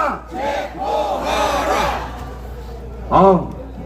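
A crowd at a large street rally outside a district court chants and shouts in unison, several drawn-out voiced cries rising and falling, followed by a louder shout near the end.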